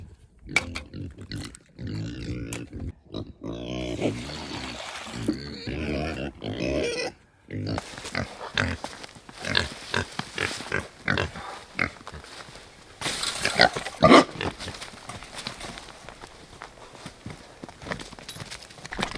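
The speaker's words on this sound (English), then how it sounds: "I think the pigs are enjoying their extra eggs this morning for a little treat for them." Farm pigs grunt and snuffle while eating eggs given as a morning treat, with repeated close, irregular oinks and shuffling, and a person talking over parts of it.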